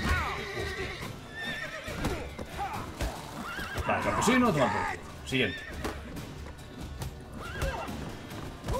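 A horse in The Witcher 3 whinnies and its hooves clop on the ground while someone talks in Spanish over the game sounds, with battle noise mixed in.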